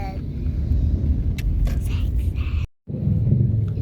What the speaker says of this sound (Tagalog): Always traffic here